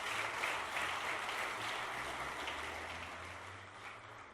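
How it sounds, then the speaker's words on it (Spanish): Faint, distant clapping from a church congregation during a sermon, an even wash of many hands that holds steady for several seconds and slowly tapers off, with no one speaking. "Dele fuertes palmas al Señor."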